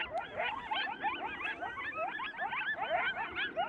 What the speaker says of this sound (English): Do you hear the freaking coyotes?